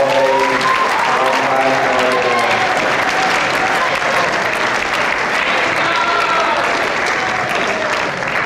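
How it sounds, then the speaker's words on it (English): An audience applauds students at a school academic awards ceremony, sustained steady clapping filling the hall for the full stretch, with faint voices murmuring underneath. "Let's give a round of applause to all our students at all A's."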